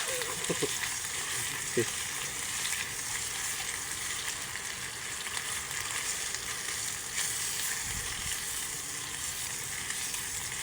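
Food frying barbecue-style in cooking oil, a steady dense sizzle running throughout with occasional stirring clinks, close and continuous without speech.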